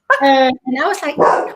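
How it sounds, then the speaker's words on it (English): A pet dog gives short, close barks and yips that overlap a woman's conversational speech indoors. "That's my dog."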